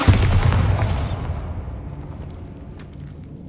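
A Bombarda spell detonates in Hogwarts Legacy, a single loud booming blast that hits at once and then rumbles and fades away over a few seconds, with no speech.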